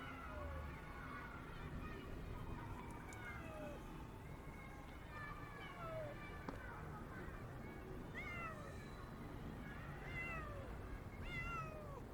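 A cat meows several times in a row, short rising and falling mews carrying faintly outdoors at an ancient Greek ruins site, with steady background noise and no clear talk.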